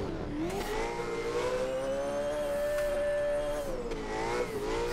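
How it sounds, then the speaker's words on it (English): A powerful Ford Mustang drifting on a track howls at high revs, its engine note climbing and holding in a sustained scream with small dips, loud and close, tires likely scrubbing underneath. "This car's just screaming."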